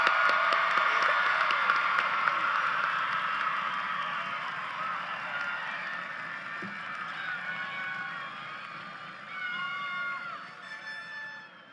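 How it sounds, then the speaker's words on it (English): A high school graduation crowd applauds the graduates, with dense clapping and some cheering that gradually tapers off over about twelve seconds. "Can we please give another round of applause for the graduates?"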